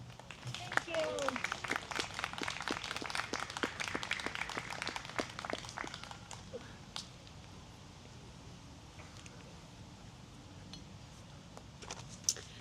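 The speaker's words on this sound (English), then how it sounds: "Please give a big round of applause to Iram Shakir, our chair, and Davi Gill" An outdoor crowd at a community unity walk claps for about six seconds, moderately close and fading out, followed by quieter open-air ambience with a brief voice.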